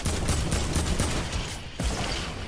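Rapid bursts of gunfire in the video game Fortnite, dense and fairly loud throughout with a brief lull near the end, as an enemy team shoots at a wall.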